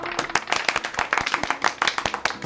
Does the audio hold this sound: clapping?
yes